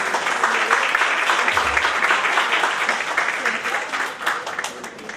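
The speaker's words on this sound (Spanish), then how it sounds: "Recibamos con fortísimo aplauso." Dense applause from a conference audience at an international human rights and constitutional law congress in Machala, steady and fairly loud across the whole stretch without letting up.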